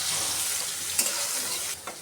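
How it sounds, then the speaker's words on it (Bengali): Onion and green chili frying in a pan, for a pangas fish dish, make a close, continuous sizzle broken by a couple of stirring scrapes and clicks. "পেঁয়াজ কাঁচামরিচটা হালকা একটু ভেজে নেই।"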